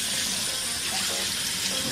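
Running tap water streams steadily into a sink while a face is washed, a close, continuous hiss with no talk over it.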